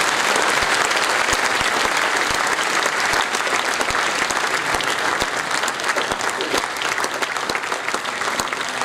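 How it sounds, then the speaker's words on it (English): Audience applause greets the conductor, a Navy commander, as he comes up at an Indian Navy band performance: dense, steady clapping from a large crowd fills the whole stretch at full strength. "Give him a big round of applause as he comes up"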